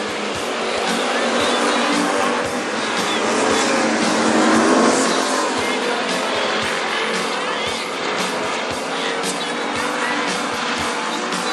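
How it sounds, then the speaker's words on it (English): WISSOTA street stock race cars roar around the Princeton Speedway track, a dense, loud, continuous wash of engine noise swelling and fading as the pack passes, with an announcer talking over it. "It's Troy Jordan from Brainerd in the number 20 car, your early leader."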